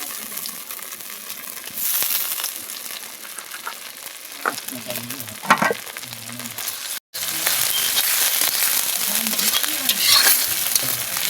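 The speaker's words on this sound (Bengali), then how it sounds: "আদা রসুনটা আমি খুব ভালো করে কষিয়ে নেব।" Ginger-garlic paste fries and sizzles in hot oil over fried onions for a rohu fish curry, with steady hiss and occasional stirring scrapes, a short break midway, then louder continuous sizzling.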